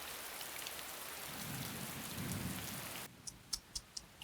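Heavy rain pouring steadily as a dense hiss with a low rumble, then dropping away to leave a few sharp dripping drops.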